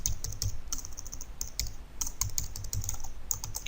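Close typing on a computer keyboard while writing C++ code, a brisk, irregular run of crisp key clicks with no pause and no talk.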